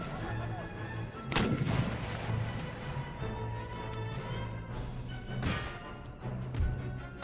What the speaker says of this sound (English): Here come the enemy mortars.